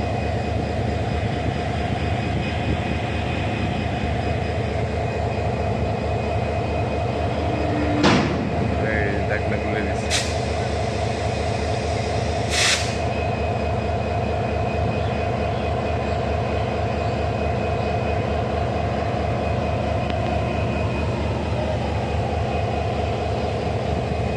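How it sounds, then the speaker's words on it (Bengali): A train being turned on a railway turntable produces a steady, loud mechanical drone, broken by a few short sharp clanks partway through. "পুরো ট্রেনটা এই সার্কেলের মধ্যে ঘুরাবে।"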